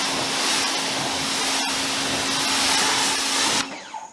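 A pressure washer fitted with a 40-degree nozzle, pushing about 1,000 psi at roughly 1.9 gallons per minute, sprays a ceramic-coated car with a loud, steady hissing roar that cuts off near the end.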